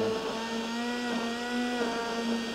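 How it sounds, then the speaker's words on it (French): Electric hand blender emulsifying a hot cooking broth in a kitchen, a steady continuous motor whir with slight pitch wobble, close and alone without talk. "Et je vais émulsionner encore un petit peu avec le mixeur."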